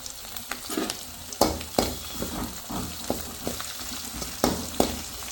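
Chopped small shallots fry in a pan for Kerala moru kaachiyathu, a tempered buttermilk curry. A steady sizzle runs throughout, broken by sharp clinks and scrapes of stirring at an uneven pace, close and moderately loud, with no talking.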